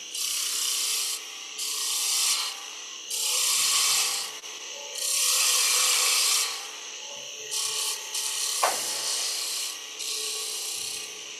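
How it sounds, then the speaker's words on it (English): Wood spindle turned on a lathe and cut with a parting spindle gouge to chamfer a Christmas tree shape, giving loud scraping passes in long bursts with short pauses between them. "grab my parting spindle gouge and just kind of create a chamfer for the whole thing here"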